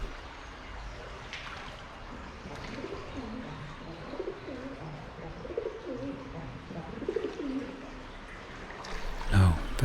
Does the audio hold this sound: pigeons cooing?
yes